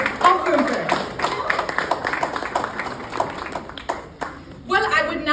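Applause at a formal Filmfare event, a thick wash of crowd clapping with voices over it that briefly dips and then swells back up near the end.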